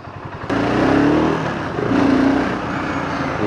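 A BSA Goldstar 650 motorcycle is ridden in its middle-version trim, its engine droning steadily and loud with a slight rise in revs and wind rush throughout.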